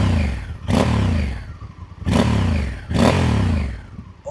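A 2024 Honda Africa Twin engine idles, then is blipped through three sharp throttle revs that rise and fall back to a deep, close, loud idle, with no voices.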